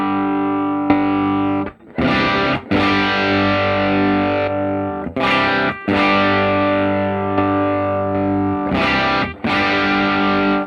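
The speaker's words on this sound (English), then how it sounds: "it seems like we're getting a lot more distortion" Heavily distorted electric guitar through a Line 6 Helix amp model with the bias turned up plays loud sustained chords, separated by short gaps, with no talking.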